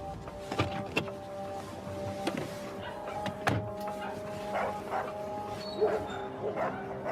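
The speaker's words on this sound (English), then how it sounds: "It's a pit bull dog." A pit bull barks in sharp, separate bursts at a moderate distance. About half a dozen barks arrive at irregular intervals over a quiet background, with a few softer yips between them.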